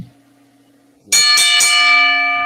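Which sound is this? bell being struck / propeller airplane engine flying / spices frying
bell being struck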